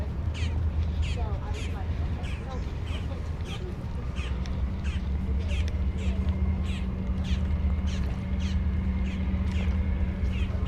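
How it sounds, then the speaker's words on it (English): Crows caw in short repeated calls near a cruise ship deck at Port Canaveral, Florida, over a steady low rumble, with people talking throughout. "You see those two birds up there?"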